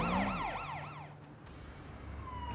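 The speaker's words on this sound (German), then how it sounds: "Wie kriegen die Sirene aus?" Police siren in the video game Sleeping Dogs, a loud wailing sweep that cuts off after about a second, leaving low engine and street noise.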